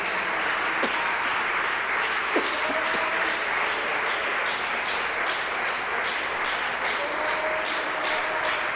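Congregation applause in a church service, sustained and fairly loud clapping from many hands, steady and dense throughout, with a few brief voices cutting through near the start and middle.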